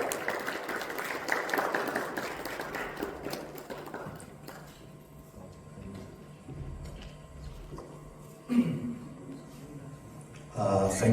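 Audience applause at an education awards ceremony in Dubai, a moderate burst of clapping that fades over about four seconds into a quieter room with scattered knocks and shuffling.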